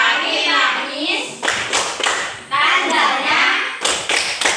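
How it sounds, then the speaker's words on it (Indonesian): An Indonesian classroom does a 'clap for today' chant, children chanting together with sharp, grouped bursts of hand claps falling in rhythmic clusters between the sung phrases, close and loud. "Oke, tepuk hari ini dulu. Tepuk hari ini."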